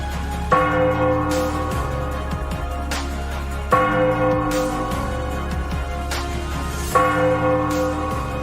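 A deep church bell strikes three times at steady intervals of about three seconds. Each loud, ringing stroke hums on until the next, with no voices over it.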